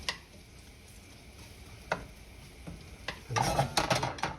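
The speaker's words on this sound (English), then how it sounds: "So while that garlic pan fries" Garlic pan-frying for Filipino fried rice: a quiet low sizzle with a few soft clicks, then a busier burst of stirring and sizzling toward the end.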